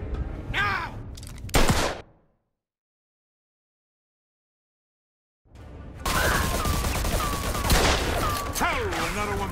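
Heavy video game gunfire in a scene of Vito killing Carlo Falcone: dense, loud bursts of shots, then an abrupt silence of several seconds, then sustained rapid firing with voices shouting underneath.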